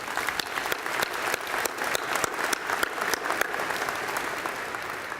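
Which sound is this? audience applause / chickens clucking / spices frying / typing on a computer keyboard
audience applause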